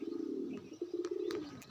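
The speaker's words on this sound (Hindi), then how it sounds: "देखो वहाँ पर 20 के आसपास होंगे कबूतर।" Pigeons coo at a loft where some twenty birds are kept for breeding, giving a steady low rolling call that dips briefly and then resumes. The sound is moderately close and carries no talk over it.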